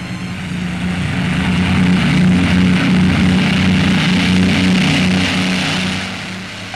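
A propeller supply aircraft takes off from a small, isolated polar base in an Arctic expedition setting, its steady engine drone loud and sustained, swelling then easing slightly as the plane pulls away.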